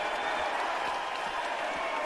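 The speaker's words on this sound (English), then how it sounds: "A lot of them cheering for Lufisto, but a lot of them cheering for Jill." Wrestling crowd at an indoor event cheering and applauding, a steady dense roar of clapping and shouting that fills the whole stretch, loud and continuous.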